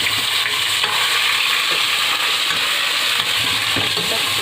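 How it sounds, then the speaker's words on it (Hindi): Garlic and ginger paste frying in a pan, a loud, steady broadband sizzle with light stirring scrapes throughout, no voices. "इसमें डाल रही हूँ लहसुन और अदरक का पेस्ट।"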